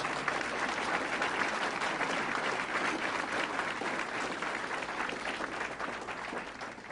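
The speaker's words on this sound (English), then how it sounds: "So give New York a round of applause." Crowd applause at a state fair announcement event in upstate New York, steady dense clapping sustained throughout at a distant, even level.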